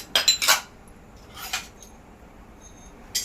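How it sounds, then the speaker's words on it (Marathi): Whole spices for biryani masala go into a pan with a quick cluster of bright metallic clinks and clatters, then a softer rattle and another short clink near the end. "सगळे हे खडे मसाले टाकूया"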